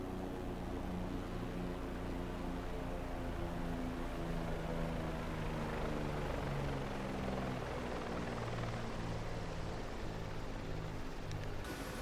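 Constant rotor thump and turbine whine of a simulated Bell 407 helicopter in the X-Plane 11 flight simulator, steady and loud throughout with a droning engine tone, no voices.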